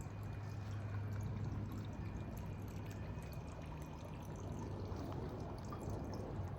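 A garden water feature in a blue container, set to drip, gives a soft continuous trickle and patter of water outdoors, faint and steady with no voices.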